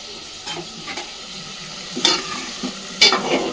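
Spices frying in ghee until the raw smell goes, a steady close sizzle broken by several scraping stirs of a spoon against the pan, no talk.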